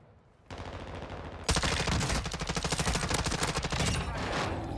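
Rapid automatic gunfire from a video game, loud and continuous, with a quieter stretch of shots at first that breaks into a dense, steady burst of repeated firing.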